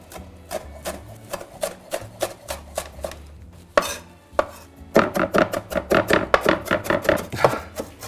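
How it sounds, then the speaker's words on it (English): A knife chops washed salad onions on a board in crisp, close strokes, at first spaced and steady, then speeding into a fast, dense run of rapid chops. "I'm going to finally chop up some washed salad onions as well"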